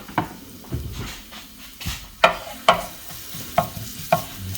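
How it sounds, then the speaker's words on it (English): Garlic simmering in olive oil in a pan, a soft sizzle under intermittent scraping and clacking of a wooden spoon stirring against the pan, close and fairly quiet, no talking. "olive oil in the pan and put the garlic in there cold. We're going to simmer that."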